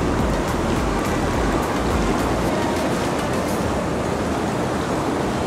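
Water churns and bubbles continuously in a hot tub aboard the Carnival Magic cruise ship, a dense, close hiss of agitated water with no voices.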